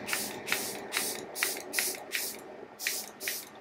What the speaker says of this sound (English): Amazing, amazing setting spray